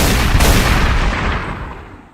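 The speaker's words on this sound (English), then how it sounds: "gunshots." A loud burst of gunshot sound effects rings out at once, a sharp blast followed by a long decaying rumble and echo that trails off over two seconds.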